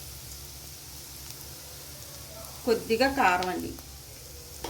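Tempering spices and onions fry in a pan for thotakura vepudu with a continuous close sizzle and hiss, while someone speaks briefly partway through.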